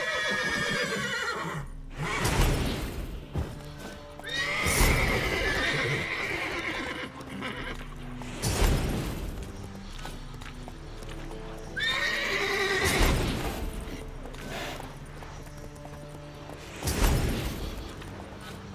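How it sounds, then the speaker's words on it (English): Horse in The Witcher 3 neighing and whinnying several times, mixed with clip-clopping hooves and heavy thuds, loud and close in a game scene. "let me see if I can calm the horse down."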